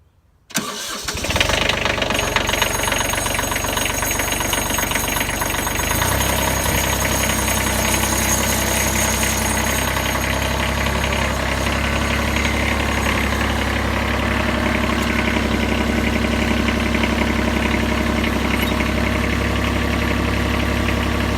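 A Kubota tractor's diesel engine cranks and catches, then settles into a steady, loud mid-pitched idle that runs on evenly, with no one talking.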